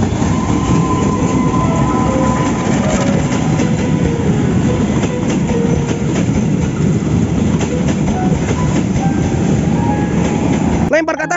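A wooden toy CC201 locomotive rolls along its track with a steady, continuous rumble and clatter that lasts throughout. A faint voice sounds in the background.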